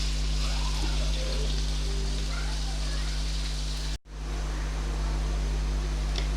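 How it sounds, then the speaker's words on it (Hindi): Onions fry in oil over high heat, giving a steady, even sizzling hiss throughout, briefly cut to near silence around the middle before resuming. "प्याज को तेज़ आंच पे इसलिए फ्राई करते हैं"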